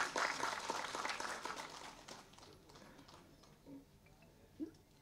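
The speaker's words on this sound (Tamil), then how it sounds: "நல்லா கைதட்டுங்களா ஒரு தடவை." Audience clapping at a Tamil film event honoring a producer, a brisk burst of many hands that fades over a couple of seconds into near silence with a few stray sounds.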